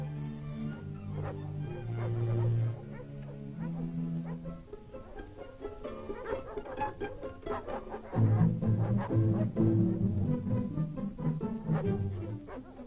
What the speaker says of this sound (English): it's the sound of dogs barking that spells out one of the principal activities at this post